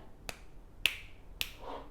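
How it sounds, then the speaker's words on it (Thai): Three crisp finger snaps, close and dry, evenly spaced about half a second apart, made beside a NUBWO NK-30 Vacant gaming keyboard with sound-reactive lighting, followed by a soft trailing rustle. "ลองดีดนิ้วไหมดีดนิ้ว"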